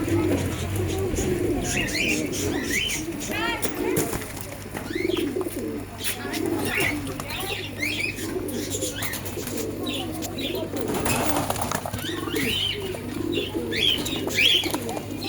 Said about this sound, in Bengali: এই সবুজগুলোকে দেখুন, দুর্দান্ত কালারের পায়রা